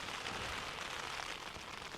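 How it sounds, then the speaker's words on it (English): Steady rain drums on a tent during a night of wild camping, a dense, even hiss of drops that holds constant and close throughout, with no other sounds. "Gonna probably drift off to the sound of this rain now"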